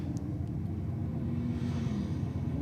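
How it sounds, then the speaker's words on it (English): A small Toyota Yaris with a three-cylinder engine runs down a drag strip, heard as a steady, low engine rumble with no clear rise or fall and no one speaking. "They're pretty impressive little unit, these Yaris's, for a little 3-cylinder, aren't they?"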